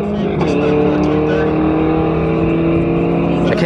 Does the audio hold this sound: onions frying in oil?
no